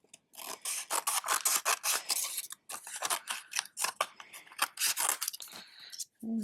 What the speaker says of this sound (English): the next thing I'm going to do is kind of trim this down just a smidgen